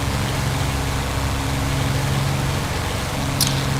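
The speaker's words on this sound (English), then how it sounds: "Let's get a bit more power on. Prop first," Simulated P-51D Mustang piston engine drones steadily in flight over snowy mountain terrain, a constant loud low hum with a brief click near the end.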